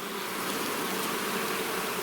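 Steady dense buzzing of many bees up close, a continuous droning hum with no breaks and no voices.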